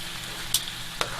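Fresh garlic frying in a pan for a chicken stir fry gives a steady, soft sizzle, with two brief louder scrapes or stirs breaking through.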